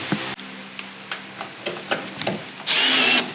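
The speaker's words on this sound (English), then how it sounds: "I have a drill." Short bursts and clicks of a power drill working on screws of a 1994 Mustang Cobra, ending in a sustained high-pitched whir as the motor runs at full speed.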